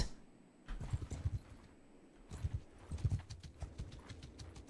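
Horse hooves clip-clop in a galloping rhythm in Mount & Blade 2: Bannerlord, moderately loud, arriving in bursts of rapid beats with brief lulls between them and no talk over the hoofbeats.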